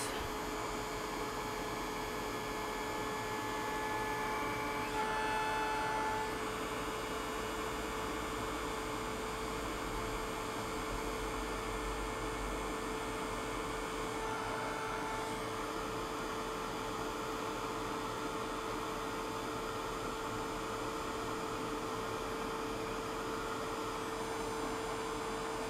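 Heat gun blowing a continuous, even hot-air roar with a steady hum while heating small craft trim on a shabby chic Santa's sleigh, close and uninterrupted for the whole stretch.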